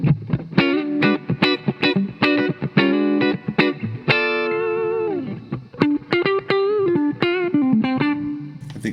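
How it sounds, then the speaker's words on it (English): Harley Benton HB35 Plus electric guitar played with a wet, spacious reverb, a run of picked notes and chords followed by a long sustained ringing chord, then more picking. "I'll put the reverb back on now."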